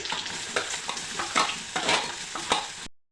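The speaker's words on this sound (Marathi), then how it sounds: "आता हिरवी मिरची घालत आहे थोडीशी परतून घेऊया तेलामध्ये कांदा घालत आहे" Onion and green chili frying in hot oil for a fenugreek-leaf dish, giving a crackling sizzle with repeated spatula scrapes and stirs at an uneven rhythm, close and fairly loud, cutting off abruptly near the end.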